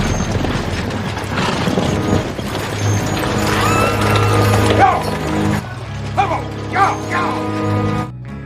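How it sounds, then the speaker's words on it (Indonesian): A horse-drawn carriage passing in a cowboy western film, with clattering hooves and creaking, rattling wheels and tack in a dense rolling mechanical clatter, followed by a horse's whinnies near the end. "Sonny mendengar suara langkah kereta kuda yang lewat."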